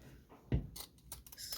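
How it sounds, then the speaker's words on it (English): A few crisp scissor snips cut through fabric close by, spaced unevenly, with a soft thump just before them. "what I'm going to do is just trim off this extra fabric."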